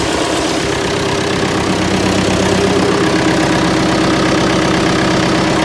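A freshly started engine on a 990 that has been fitted with power steering idles steadily and loudly close by, a constant low rumble with a slight knocking texture and no talk.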